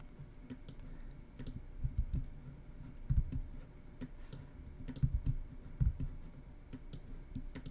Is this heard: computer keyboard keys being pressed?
yes